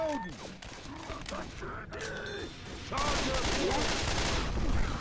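Gunfire from the zombie shooter Left 4 Dead 2: scattered shots under excited voices at first, then a louder, dense stretch of rapid fire in the second half.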